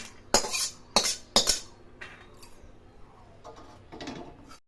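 Roasted peanuts tipped from a dry pan onto a plate in a village kitchen, giving a few sharp rattling clatters in quick bursts near the start, then softer scattered rustling and tinkling as the nuts settle.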